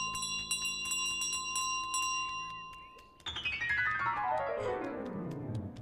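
A bell in Untitled Goose Game rings in quick repeated strikes with bright, sustained tones, then a louder, cascading chime that decays gradually, close and clear with no voices over it.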